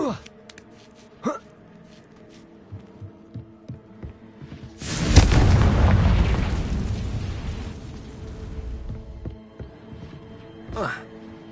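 A Confringo blasting spell exploding in Hogwarts Legacy, one sudden loud boom that rumbles and slowly fades, set among soft scattered thuds and clicks.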